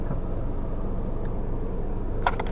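Steady low road rumble from inside a moving car on a hilly rural drive toward Nilkantheshwar temple near Panshet, even and continuous, with a brief faint rattle near the end and no talk.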